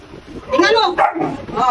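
A pregnant dog gives short, close barks and yips mixed in with a person talking nearby.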